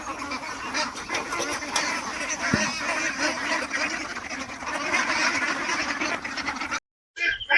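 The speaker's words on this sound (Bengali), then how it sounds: "হাঁসগুলোকে আজকে সম্পূর্ণরূপে বাইরে ছেড়ে দিলাম" Ducks let out to roam freely outdoors, a flock quacking in a steady busy chorus across the scene, fairly loud and continuous, before a brief drop to silence near the end.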